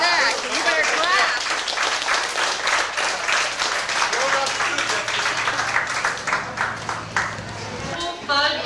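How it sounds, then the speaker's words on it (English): At a heritage day festival in Ohio, a crowd claps after a cake auction, scattered applause and crowd voices mixing with a nearby talking announcer. "You better clap."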